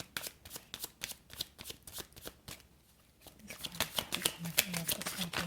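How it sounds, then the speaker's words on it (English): A tarot deck is shuffled loosely and messily close up, with rapid flapping card snaps in an uneven rhythm and a soft voice murmuring in the second half. "I'm normally not a messy shuffler"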